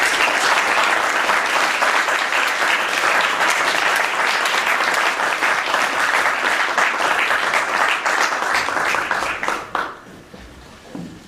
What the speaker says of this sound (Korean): 나오실 때 큰 박수로 환영해 주시면